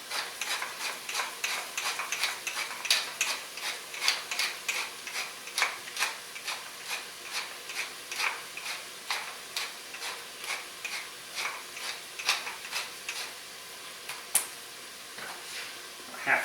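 A pepper mill being cranked while risotto is made, giving a steady run of dry, crackly ticking grinds in quick rhythmic bursts, close and moderately loud, with no talking over it.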